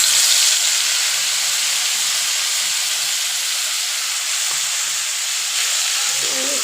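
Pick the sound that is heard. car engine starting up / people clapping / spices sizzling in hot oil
spices sizzling in hot oil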